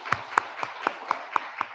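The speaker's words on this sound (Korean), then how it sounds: "우리 박수 한번 하겠습니다." Applause at a Korean church's Sunday morning worship service comes as a steady, evenly spaced run of about seven sharp claps, fairly faint against a quiet room.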